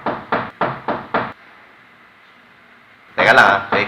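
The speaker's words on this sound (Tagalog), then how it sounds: "Teka lang may kumakatok ulit." Five quick, loud knocks on a door in an even rhythm, then a short quiet hum before a voice starts talking.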